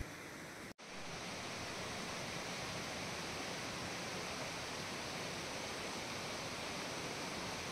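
A clear mountain stream on the Agasthiyar hill trek flows with a steady, full rushing wash that stays even throughout after a brief cut near the start; no voices.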